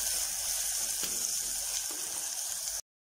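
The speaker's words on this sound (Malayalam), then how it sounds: "ഉള്ളി ബ്രൗൺ നിറമാകുന്നത് വരെ നമുക്ക് ഫ്രൈ ആക്കാം" Finely chopped small shallots fry in oil in a pan while making a Kerala-style crab curry, giving a steady, close, even sizzle that runs without pause, with faint stirring clicks and no talk.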